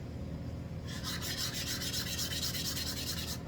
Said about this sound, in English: sand these parts, and they sand up really nice